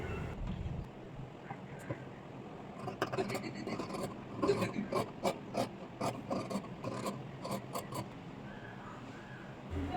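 Blouse fabric folded double and cut along a drawn line: a close series of rhythmic rasping snips and rubbing strokes, steady through most of the stretch.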